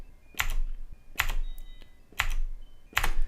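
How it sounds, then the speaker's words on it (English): Tab keys on a computer keyboard are pressed four times at roughly even intervals, each a crisp, close plastic clack in an otherwise quiet room. "if I'm just pressing tab keys in between these"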